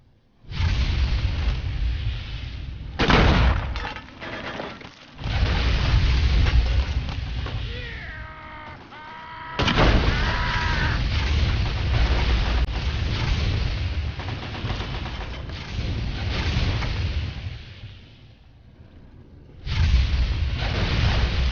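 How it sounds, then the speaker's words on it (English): A grenade rifle fires in Fallout: A Tale of Two Wastelands, bringing loud booming blasts in separate bursts, with sustained rumbling game noise and some tonal in-game sounds between them. "Grenade rifle. Eat grenade!"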